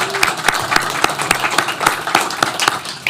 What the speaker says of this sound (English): We'll get to the clapping.